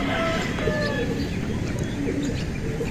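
Pigeons cooing and calling around a loft, young birds and old birds flying rounds overhead, steady bird calls layered over a constant low outdoor rumble.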